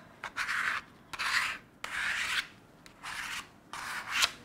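A scraper is pushed across static glass film laid on a wet window in five or six separate squeaky, rubbing swipes, each lasting about half a second, with short pauses between them and nothing else heard.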